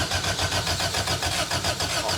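A Toyota AE86's engine cranks over with a steady, rhythmic starter churn, close and fairly loud, struggling to catch without fully firing into an idle.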